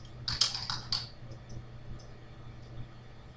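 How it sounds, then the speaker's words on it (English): Keystrokes on a computer keyboard typing a name, a quick cluster of light clicks near the start and then scattered faint taps over a steady low hum. "here we'll just type in a name."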